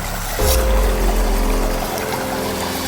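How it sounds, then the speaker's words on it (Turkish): Cold stream water flowing at night, a steady broadband rush with a low rumbling swell in the first half, close and continuous with no voices. "Derenin akış sesini duyuyor musun?"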